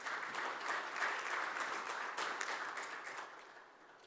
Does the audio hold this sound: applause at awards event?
yes